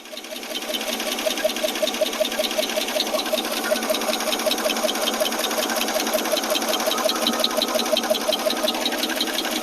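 An AMC 287 V8 running at fast idle with leaking intake, fuel and exhaust: a steady, fast mechanical ticking and clatter over an even engine hum, close and constant once it catches.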